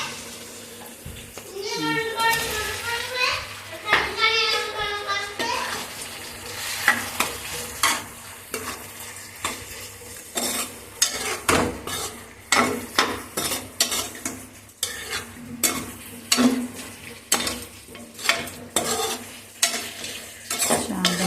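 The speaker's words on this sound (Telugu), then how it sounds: "టమాటా మగ్గింది మగ్గిన తర్వాత దీనిలో చామదుంపలు వేసుకొని మిక్స్ చేసుకోవాలి" Taro root pieces being stirred into cooked-down tomatoes in a pan for arbi curry, with repeated close spoon scrapes and clinks over a soft sizzle, while someone speaks at the start and a child is briefly heard.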